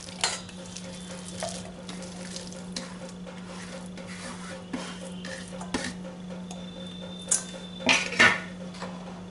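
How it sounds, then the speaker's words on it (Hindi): Mashed potatoes tipped into a large pot for bread cutlets and worked with a metal spoon, giving soft scraping and light clinks over a low kitchen hum, ending in a few louder metal knocks against the pot. "तो अब एक बड़े भगोने में जो आलू हमने मैश किया है वो डालेंगे।"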